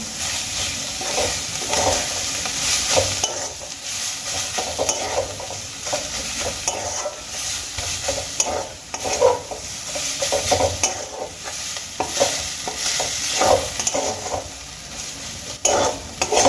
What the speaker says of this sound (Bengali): এবার আমি খুব ভালো করে মিশিয়ে নেবো